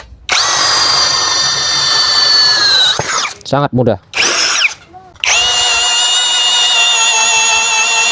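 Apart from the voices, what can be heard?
JLD brushless 13 mm drill boring teak with 16 mm auger bit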